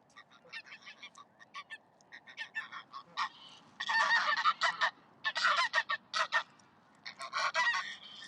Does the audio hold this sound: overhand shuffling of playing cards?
no